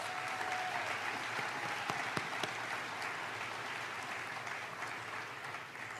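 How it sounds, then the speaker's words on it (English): Audience round of applause at a city State of the City address in 2019, a steady, fairly distant wash of clapping that holds evenly for several seconds with no talk over it. "Let's give her another big round of applause"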